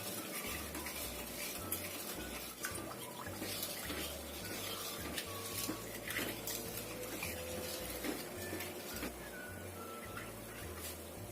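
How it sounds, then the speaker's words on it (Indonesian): A spoon scrapes and knocks against a pot as a pudding mixture is stirred steadily over medium-low heat, with soft clinks and a quiet bubbling simmer beneath, close and without speech. "sambil terus kita aduk."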